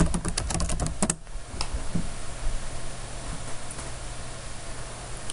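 Quick bursts of keystrokes on a computer keyboard tap out an address in a search box, clustered in the first second with a few isolated clicks after, close and fairly quiet over faint background hiss.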